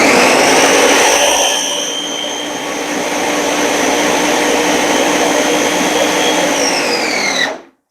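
A food processor pulses chopped tomatoes for salsa, a loud steady motor whir that runs nearly the full length before cutting off abruptly at the end, with no talk.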